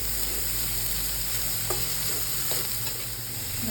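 Chopped onions fry in hot oil with ginger, garlic, curry leaves and pandan leaf, a steady loud sizzle close by, broken only by a couple of faint clicks of a spoon.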